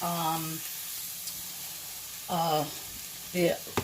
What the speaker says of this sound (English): So I'm just going to fry his pork chops